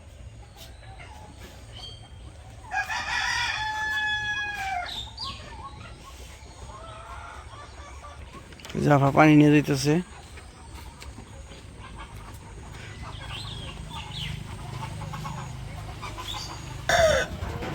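Chickens at an outdoor village poultry farm, with occasional clucks and calls among a loud burst of squawking midway, while people talk nearby.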